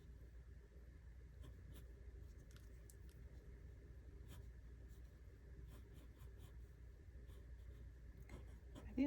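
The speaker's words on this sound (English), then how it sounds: "Because it's like I write and the marker doesn't write what I'm writing." A marker scratches and taps across paper in short irregular strokes, faint and close, over a low continuous rumble of passing road traffic.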